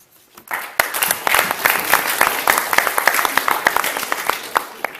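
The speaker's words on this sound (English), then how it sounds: "Clap for this whole group." Classroom applause for a debate group on single-gender schools: a burst of dense clapping from a roomful of students starts after a brief pause and carries steadily, close and fairly loud, with a few sharper individual claps standing out.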